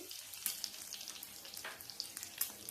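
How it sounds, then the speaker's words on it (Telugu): Eggs seasoned with salt, chili powder and turmeric fry on a tawa with a faint, close crackling sizzle, small pops scattered over a soft continuous hiss, no voices. "పసుపు యాడ్ చేసి కొంచెం ఇవి ఫ్రై అయ్యేంత వరకు పెట్టుకున్నాము"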